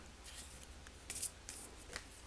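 Quiet, close-up rustling and riffling of a deck of oracle cards being shuffled, in a few short bursts.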